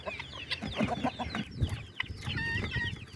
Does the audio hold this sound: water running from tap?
no